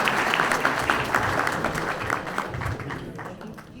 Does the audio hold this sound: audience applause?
yes